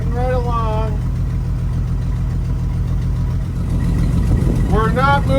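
Steady low rumble of a 1952 Dodge Wayfarer engine while the car moves slowly, heard from inside, with brief speech at the start and end.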